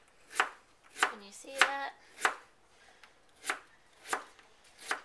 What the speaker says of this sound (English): And then I just slice them really thin.